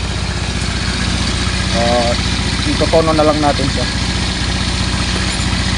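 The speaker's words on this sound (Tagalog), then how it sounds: "so finally napandar na rin natin itong ating motor star" A motorcycle engine idles steadily after being started, a low-compression bike with carburetor work, its even rumble continuous throughout while someone talks over it.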